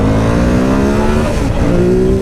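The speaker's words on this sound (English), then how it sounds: "I gave this bike a little bit of throttle, and it felt like not only my weight, but the whole weight of the motorcycle just flew on back" 2016 Ducati Monster 1200R motorcycle accelerating hard onto a highway entrance ramp, a loud, close engine note rising steadily in pitch with a brief gear-change dip midway, over constant wind rush.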